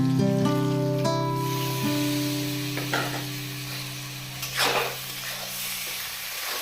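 Washed Gobindobhog rice, about 500 grams, tipped into a cooking pot, giving a short rustling splash partway through over a steady tonal hum and faint kitchen noise.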